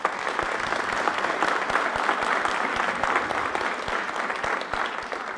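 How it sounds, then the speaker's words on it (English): A live audience at a panel discussion gives a round of applause, a sustained, fairly soft wash of many hands clapping that carries on evenly throughout. "so please give her a big round of applause."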